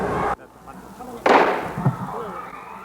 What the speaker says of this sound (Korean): 총성이 연이어 들리고 잠시 후 다시 한 발이 더 울립니다.